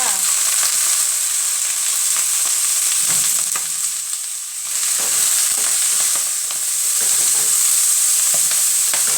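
Chinese kale stir-fried with crispy pork as soy sauce goes in: loud, steady sizzling and hissing in a hot pan, broken by scraping stirring strokes and a brief dip midway, with no talk.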